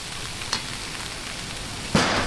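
Vegetables and Chinese celery sautéing in a pan give a steady, soft sizzle throughout, with a brief louder clatter near the middle and a sharper burst of sizzle toward the end; no one talks.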